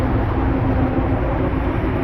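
A steady, low rumbling drone fills the cabin of a moving train, constant and unbroken with no voices.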